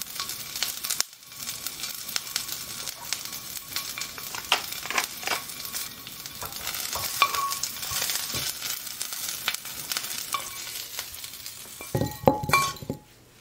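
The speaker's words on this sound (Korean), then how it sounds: "오일을 두른 팬에 넓은 단면부터 구워주시면 되는데요." Brussels sprouts sizzle cut side down in an oiled pan, a steady crackling fry with occasional clinks of utensil against the pan and a louder clatter near the end.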